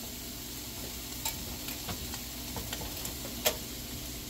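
Ground beef sizzling in a pan, a steady low crackling fry with a few faint ticks and small clicks of a utensil, close and even, no talking.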